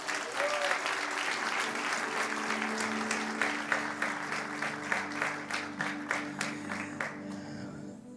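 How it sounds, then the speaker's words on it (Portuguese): A congregation at a celebration service applauds beneath sustained keyboard chords, a full spread of clapping that grows more separate and rhythmic before tapering off near the end. "Você pode aplaudir o Senhor?"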